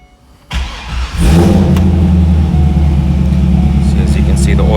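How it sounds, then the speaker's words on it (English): A 2002 Chevrolet Corvette Z06 engine starts and settles into a loud, steady idle, filling the space up close with a deep continuous rumble. "it might be a little bit hard to hear me because the car is a little loud"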